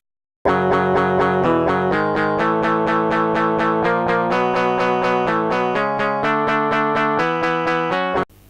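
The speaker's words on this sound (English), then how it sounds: "if we go to the new note action and select note fade with a fade out of about 8000" Synthesized guitar notes sequenced in OpenMPT, with a note fade set to a fade-out of about 8000, play a steady, evenly spaced run of plucked notes with a distorted, chorused tone, loud and continuous without any voices.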